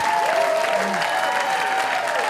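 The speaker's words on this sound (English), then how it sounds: "Give it up for Hope." Loud audience applause and cheering at a storytelling show in San Francisco fill the clip, a dense steady clapping with a faint whistle or tone running through it.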